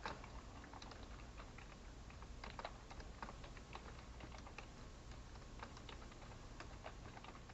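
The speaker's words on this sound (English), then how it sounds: "we'll type in the new information" Fingers tap quickly and steadily on a computer keyboard, a quiet run of close, crisp key clicks with small pauses and no voices.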